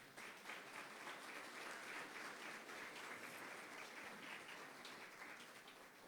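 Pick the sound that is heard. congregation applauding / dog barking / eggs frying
congregation applauding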